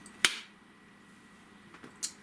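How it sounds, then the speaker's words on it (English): A single sharp, bright clap made to sound like a seal, followed after a quiet pause by a second, softer clap. "Tried to do like a seal clap there."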